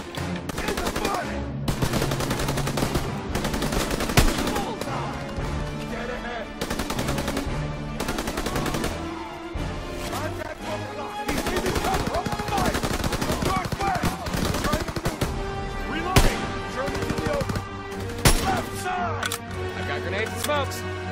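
Intense battle gunfire from Call of Duty WW2 on a factory level: dense machine-gun bursts and single shots crack over and over with explosions for the whole stretch, while shouting voices come through under the constant firing.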